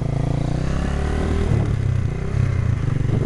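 A motorcycle engine drones steadily at close range, a constant rumbling hum with slight shifts in pitch as the bike rides along.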